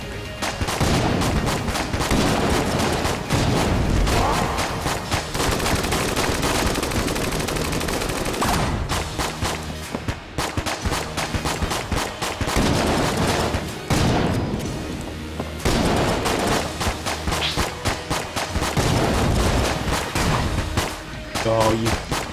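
Enter the Gungeon gameplay packed with rapid arcade-style gunshots and blasts, dense continuous firing with brief pauses, under game music, with a player speaking at times.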